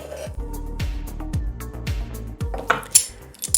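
Chopped pieces of tomato, cheese and sausage tip into a bowl of other ingredients for stuffed fried tomatoes, with a series of soft thuds and clinks of cutlery against the dish, close and moderately loud, no talking.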